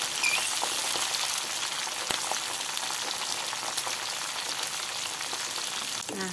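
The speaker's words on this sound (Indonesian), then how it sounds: "goreng sampai dia lembut" Chilies, shallots, garlic and tomato sizzle steadily in a hot oiled pan for a prawn sambal, a dense, continuous crackle heard up close with no talking.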